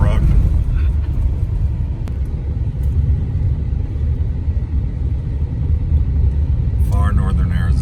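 Car driving off-road through far northern Arizona, a steady loud engine and tire rumble with rattles that runs throughout, close and continuous.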